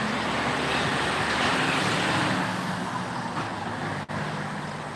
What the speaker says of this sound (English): dang, these trucks are loud